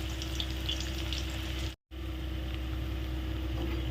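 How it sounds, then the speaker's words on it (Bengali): Chopped onion frying in a pan, a dense steady sizzle with a low background hum, briefly cut out near the middle before the frying continues. "খুব ভালো করে যে চপ করে রেখেছিলাম পেঁয়াজটা, সেই পেঁয়াজটা কিন্তু আমি এবার দিয়ে দিচ্ছি।"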